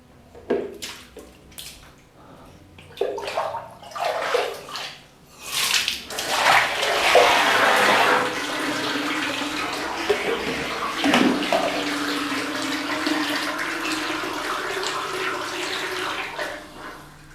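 An automatic float valve refills a water tank: a few splashes and pours give way to a steady, loud rush of water flowing in close by, holding constant to the end.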